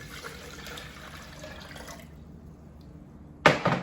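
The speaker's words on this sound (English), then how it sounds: "Add the water." Water poured into a homemade Sumerian-style beer mash sweetened with a spoonful of sugar, a short close splash and gurgle bursting out near the end after quieter handling noise.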